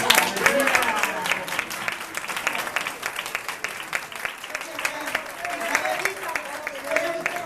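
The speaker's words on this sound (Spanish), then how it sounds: "un aplauso para ella." Applause from a small gathering at a gift presentation, a dense patter of clapping that stays even throughout, with people talking and calling out over it.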